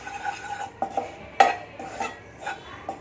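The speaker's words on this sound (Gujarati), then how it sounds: "ચણાનો લોટ લીધો છે 2 ચમચી જેટલો, એને આપણે શેકી લેવાનો છે." A spoon scrapes and taps against a pan in short, irregular strokes as dry gram flour is stirred and roasted, with no voices.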